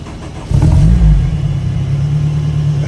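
A Honda S2000 engine swapped into a 1953 MG TF catches and starts, then revs up loudly close by with a rough, rumbling roar that settles into a steady idle.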